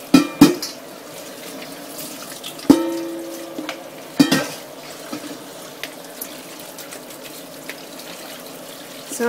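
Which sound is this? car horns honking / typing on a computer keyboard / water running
water running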